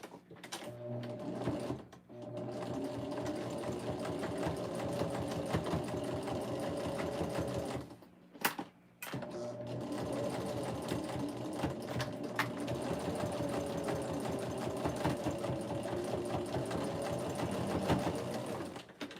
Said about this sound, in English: let's go back here and stitch